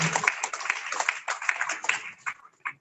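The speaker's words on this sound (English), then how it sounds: "Another round of applause for the Senator." Scattered clapping for a Senator at a formal soil science institute meeting on Zoom, a thin patter of hands that thins out into a few last isolated claps.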